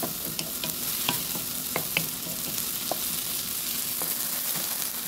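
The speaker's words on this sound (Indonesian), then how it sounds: "Di sini saya tumis bawang dulu ya." Onions sautéing in a pan, a dense steady sizzle with scattered light taps and scrapes of stirring, close up and with no talking.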